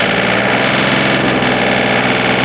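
A John Deere 2032R compact tractor's engine runs at a steady 2,500 RPM PTO speed, a loud, continuous drone with a constant vibrating hum and no change in pitch.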